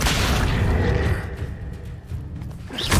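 Bombarda blasting spell in the Hogwarts Legacy video game, a heavy booming explosion that rumbles loudly, dips briefly, then swells again with a final thud.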